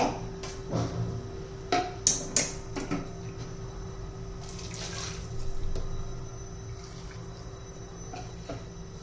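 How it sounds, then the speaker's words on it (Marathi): Water poured into a pot of corn soup, a soft splashing trickle with a few clinks of utensils early on, fairly quiet and unaccompanied by talk. "हे पण अर्धी वाटी मी पाणी घालते"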